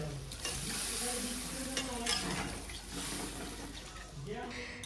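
Water poured into a pot of potato and cauliflower curry cooking with ground spice paste in a home kitchen, a steady running and sizzling wash under continuous talk.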